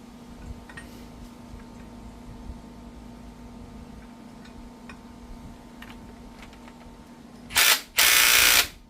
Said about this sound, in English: Let's try the smaller impact